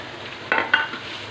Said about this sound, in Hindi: अच्छे से इसे फ्राई कर लेंगे। I am using hair beef mince